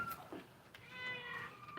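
A cat meows in two or three short, rising calls close by, over quiet indoor room tone.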